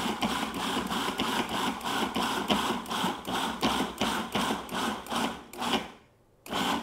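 A food processor chops cucumbers in a rapid series of short, regular pulses, each a loud whirring burst, ending with a brief silence before one last pulse.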